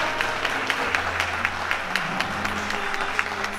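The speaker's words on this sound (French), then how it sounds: "sous un tonnerre d'applaudissements, d'encouragement" Applause for a competitor at a competition, a mid-sized crowd clapping steadily with sharp individual claps standing out, accompanied by a low hum underneath.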